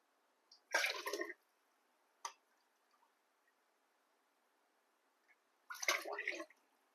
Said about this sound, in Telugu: ఒక 2 గ్లాసులు పచ్చిపాలు యాడ్ చేస్తున్నాను నేను